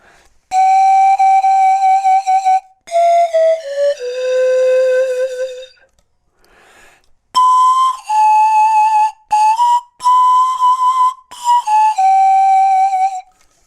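Pan flute played with vibrato, clear sustained wavering tones in several phrases with a short pause in the middle, loud and close with no talking.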